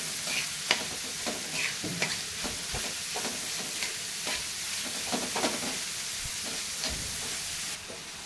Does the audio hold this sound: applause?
no